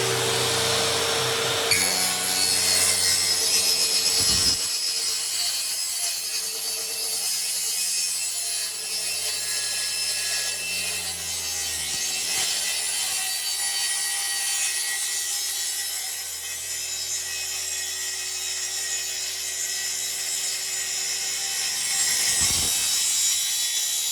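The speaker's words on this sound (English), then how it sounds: "I just cut it in place and just drop the saw down and. Freehand it." A saw cuts freehand through wood with a steady, loud, continuous rasping drone that holds for the whole stretch, with no talk over it.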